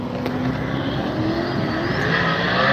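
At a drag race, a Chevrolet-powered rear-wheel-drive Honda S2000 and an all-wheel-drive Audi R8 roar down the strip together, a loud, dense, continuous engine rush rising in pitch with no talk.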